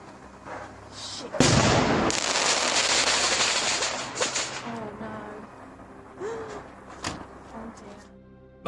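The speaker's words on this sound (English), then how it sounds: "Footage shows a man lighting off a firework in his yard when it suddenly takes a curve towards the neighbor's home." A firework lit in a backyard veers toward the neighbouring house and bursts with a sudden loud blast, followed by crackling and popping that fade over several seconds, with scattered sharper cracks later.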